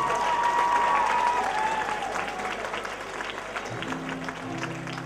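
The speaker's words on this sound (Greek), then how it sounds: "Ένα μεγάλο χειροκρότημα για αυτό το αληθινά ελληνικό ραδιόφωνο" An audience applauds steadily at a celebration of the Tripoli municipal radio's 20th anniversary, with dense clapping that fades slightly while music or singing rises in the background toward the end.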